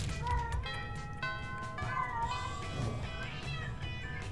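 A person imitates a cat with several drawn-out, wavering meows in quick succession, close and clear over a low game music background.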